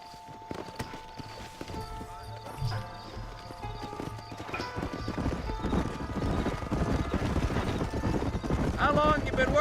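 A horse's hooves clip-clop steadily in the western video game Red Dead Redemption, with an occasional whinny, the pace picking up and growing louder toward the end, under in-game music and voices.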